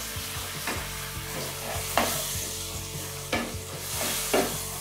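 Gatte curry simmering in its boiling stock over a full flame, stirred steadily with a spoon that scrapes and knocks against the pan over a loud continuous sizzle and bubbling, while someone speaks briefly.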